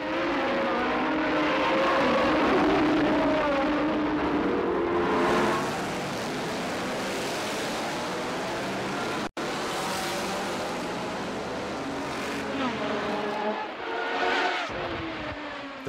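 Racing cars roar through the streets at the Monaco Grand Prix, a continuous loud wall of engine noise with rising and falling revs as cars pass, briefly cutting out before the din resumes.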